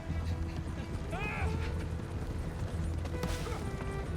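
Horse hooves clip-clop in Red Dead Redemption 2, a steady rhythm under a busy game soundscape, with a brief neigh or creak partway through and ambient outdoor noise.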